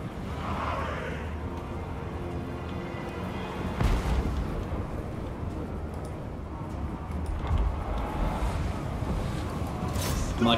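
Cannon artillery fire in the Total War: Warhammer 2 battle game, a dense rumbling barrage with heavier booms landing every few seconds over a continuous roar.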